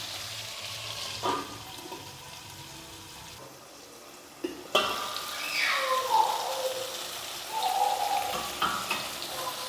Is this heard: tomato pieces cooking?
yes